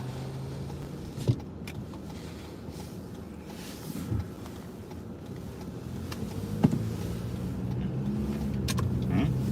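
A car cruises along an open road with no traffic, a continuous moderate road and engine hum with a few faint knocks and clicks from the cabin.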